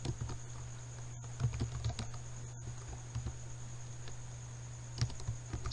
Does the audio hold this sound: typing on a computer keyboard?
yes